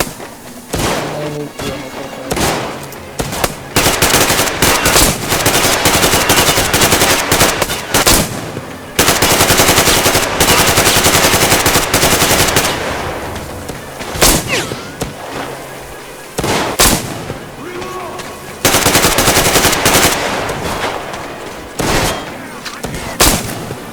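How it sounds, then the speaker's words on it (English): Heavy gunfire in the video game Metro Exodus, with loud bursts and sustained automatic fire that fill most of the clip, broken by short pauses and scattered single shots. "I see the enemy! I see the enemy! Go in when I Open get him. fire!"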